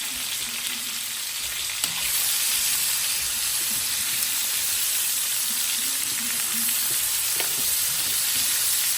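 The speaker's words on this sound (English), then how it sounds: "I'm going to throw in a half a stick of butter. I'm going to toss in those onions." Onions frying in half a stick of melted butter in a pan, giving a steady close sizzle and hiss with occasional crackles and brief stirring scrapes, no voices.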